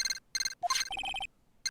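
A transceiver rings in the video game Phoenix Wright: Ace Attorney with bright, electronic chiming tones. Two short bursts are followed by a quick rising blip, a rapid run of repeated beeps, a pause, and then the ring starting again, with no voices.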